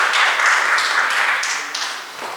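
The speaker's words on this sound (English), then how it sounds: "Again, a big round of applause for sir." Audience applause at a medical conference, a continuous patter of many hands clapping with no voices, holding steady before tapering off toward the end.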